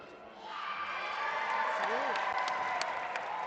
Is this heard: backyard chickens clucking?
no